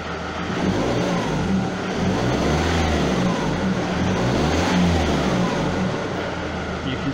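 The 2.0 diesel engine of a 2007 Ford Mondeo revs repeatedly, rising and falling in steady surges during a smoke fault diagnosis, loud and close with a continuous idle underneath.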